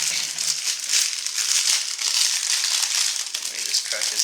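A tough plastic bag from an Age of Sigmar miniatures box is pulled open with steady, close, bright crinkling and crackling that goes on throughout, with a hint of voice underneath.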